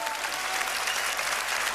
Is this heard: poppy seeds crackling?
no